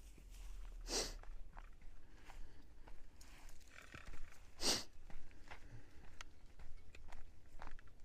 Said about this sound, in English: And Heidi is going to town on sniffing.